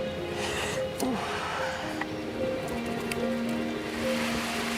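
Heavy rain pours steadily outdoors in a Bulgarian wilderness survival setting, a dense continuous hiss with scattered drops and faint tonal background sounds throughout.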